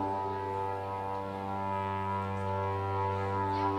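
A wind instrument sounded by buzzing lips holds one continuous, unbroken low droning tone, rich and reedy, steady in loudness and heard alone.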